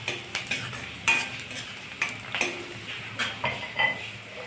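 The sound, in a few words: onion being sautéed in a pan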